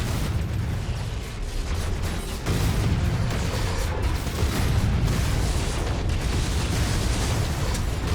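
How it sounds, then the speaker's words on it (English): A battle mech blows up in MechWarrior 5 combat, a sustained loud rumbling explosion with heavy low-end roar and crackling debris that dips briefly then swells again, no talking. "Critical explosion imminent."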